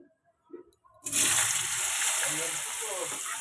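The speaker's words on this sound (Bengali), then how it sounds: "এই যে আলুটা দিয়ে দিলাম আলুটা একটু ভেজে নেব" Potatoes drop into hot oil left over from frying pangas fish, bursting into a steady, bright sizzle that holds evenly after a few faint clunks and soft sounds beforehand.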